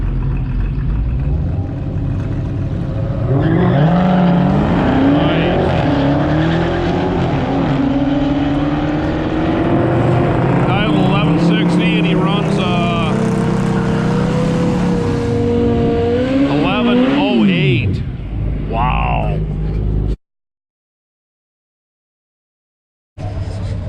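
A four-door Dodge Dart drag car launches at a drag strip, its engine roaring and revving hard through rising gear pulls as it charges away and fades into the distance, then a brief silence.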